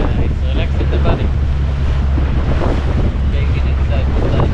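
Steady rush of wind and ocean surf heard from a fishing boat, a constant loud roar with low rumble, heavy wind buffeting the microphone throughout.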